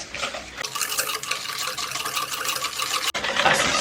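Wire whisk stirring vanilla sugar into a tiramisu speculoos dessert mixture in a bowl, a steady rapid scraping and swishing that runs continuously, fairly close and alone, then cuts briefly before resuming.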